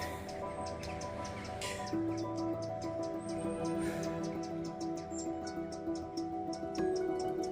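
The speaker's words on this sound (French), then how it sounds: "Quelques oiseaux qui chantent avant l'hiver." Small birds chirp and tweet in scattered short calls across an outdoor hillside path before winter, fairly faint over a steady background hum of running water, with no voices.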